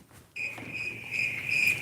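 Steady cricket chirping in a quiet setting, a continuous high trilling that begins abruptly and carries on alone for under two seconds with no voices.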